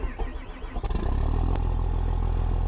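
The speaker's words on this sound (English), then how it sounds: "the sound effects is if it has chains on it and driving on concrete" A video game vehicle fitted with chains drives over concrete, giving a steady, loud engine-like rumble with a grinding rattle that starts abruptly and continues evenly to the end, with no talk.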